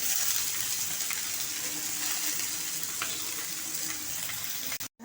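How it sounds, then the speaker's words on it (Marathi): Paneer cubes frying in a pan over a medium flame for matar paneer, giving a steady, even sizzle with faint crackles throughout, close and alone, cutting out abruptly near the end. "आपण मीडियम फ्लेमवरती दोन्ही बाजूनी पनीर लाईट ब्राऊन असं गोल्डन ब्राऊन करून घ्यायचं आहे"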